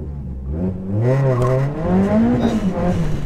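Tuned, fully forged big-turbo 480bhp Seat Leon Cupra R launching hard with too much wheelspin, the engine note rising in pitch and roaring loud and close while the tires scrabble, with faint voices underneath.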